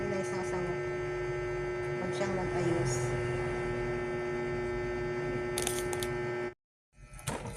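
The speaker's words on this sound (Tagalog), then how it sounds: "Ayan yung ref ko dito, dito sa tabi ko." A refrigerator sits right beside a talking person in a home, a steady electrical hum running under the voice for several seconds before it cuts out briefly and resumes.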